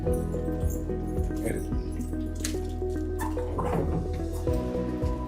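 Filtered rainwater trickles and drips steadily down into a can, a wet splashing patter running throughout with people talking over it.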